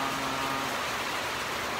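Heavy rain pours down in a dense, unbroken hiss, loud and close, with no talking over it.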